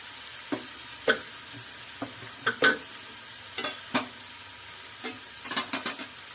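Onions fried until red in a pan as chili masala is added for a black peas curry, a steady background sizzle with about a dozen spatula scrapes and taps spread irregularly across it, close and with no talking.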